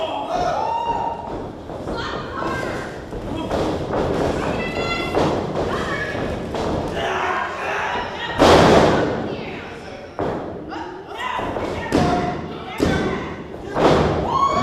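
A wrestler is slammed to the mat with a Michinoku driver at a WWN Proving Ground match: a loud, sharp impact thud rising out of crowd noise and ongoing commentary.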